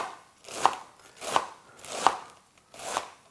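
A Zelite Infinity Japanese knife chops food on a cutting board in four evenly spaced, crisp strokes, close and clear with no talking.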